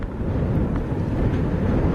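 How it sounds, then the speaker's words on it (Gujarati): Strong Cyclone Yaas wind over coastal Odisha and West Bengal, a continuous low roaring rumble that buffets the microphone without letting up. "પવનના સૂસવાટા સંભળાઈ રહ્યા છે"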